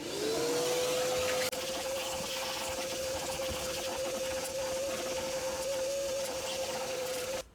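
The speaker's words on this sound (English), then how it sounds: "Little vacuuming," A vacuum cleaner runs inside the interior of a 20-year-old BMW 7-Series, its motor whine rising at start-up and then holding a steady drone, with a brief bump partway through and a cut-off at the end.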